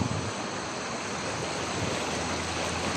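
Continuous rushing flow of a river beside a hillside campsite, a steady broadband wash of water with no breaks or voices, moderately loud and close.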